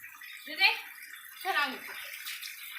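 Water is poured during a bath with a steady, close splashing wash. Two short bursts of a voice rise above it.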